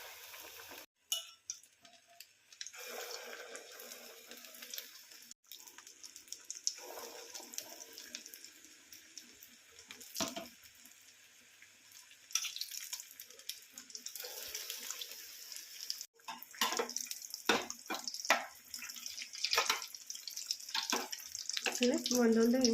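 Vada pav balls dipped in batter and dropped into hot oil, giving a fairly quiet, crackling sizzle with irregular bursts and brief gaps that continues throughout, and grows busier near the end.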